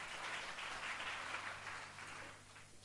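Congregation clapping together during a fasting prayer church service: a faint, steady wash of applause lasting a few seconds, with a low electrical hum underneath.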